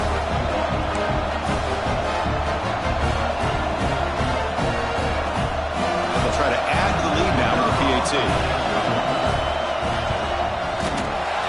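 Stadium crowd in a Madden football game on PS5 roars steadily throughout, a dense continuous wash of cheering under a play-by-play commentator's voice, with occasional thuds and slams.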